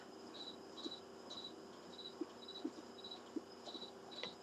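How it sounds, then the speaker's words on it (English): Crickets chirp outside at night in a steady, faint rhythm of short, evenly spaced trills, with a few soft low knocks scattered beneath them. "And now all I hear are crickets."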